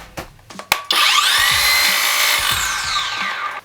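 REVOLT cordless circular saw with a 185 mm blade spinning up after a few clicks, then running at a loud, steady high whine for about three seconds before beginning to wind down.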